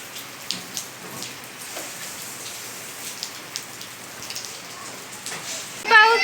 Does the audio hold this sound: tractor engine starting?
no